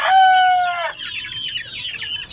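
A rooster and hens in a small backyard flock, with one loud close crow in the opening second, then a cluster of overlapping clucks and squawks carrying on steadily behind it.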